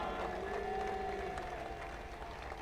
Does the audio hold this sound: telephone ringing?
no